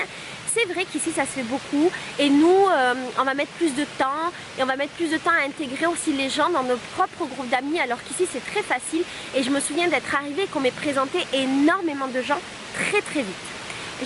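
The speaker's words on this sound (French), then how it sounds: "derrière moi il y a une cascade gigantesque et magnifique" A gigantic waterfall roars as a steady broadband wash behind a speaker who talks continuously in French, the rushing water never pausing beneath the voice.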